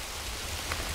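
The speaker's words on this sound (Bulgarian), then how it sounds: "Вали град." Hail falling steadily outdoors on a mountain hike toward Musala peak in Bulgaria, a dense, even hiss of pelting ice with no distinct single impacts, loud and unbroken for the whole moment with no voices.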